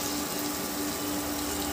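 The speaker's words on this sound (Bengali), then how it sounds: "মশলাটা পুড়ে না যায় তার জন্য অল্প একটু টমেটোর বাটিতে ওর মধ্যে জল দিয়ে দিলাম।" Water pours steadily into a pan of tomato paste and spices, giving a continuous, even gushing wash with no pauses and no talking.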